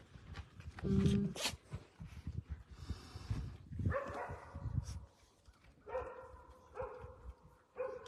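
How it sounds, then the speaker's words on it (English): A neighbour's dog barks in the distance outdoors, a few faint, scattered barks and yips mixed with nearby rustling and handling noise. "You hear the neighbor dog?"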